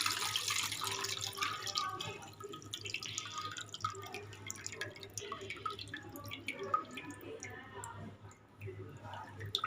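Water is squeezed and drained from soaked semolina for carrot idli, giving a soft, close trickle with scattered drips and splashes at a low level throughout.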